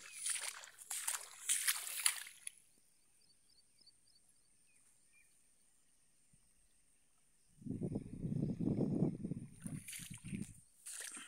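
Flood water over a farm field sloshes and splashes in two loud bursts, one at the start and a longer one later, separated by near silence.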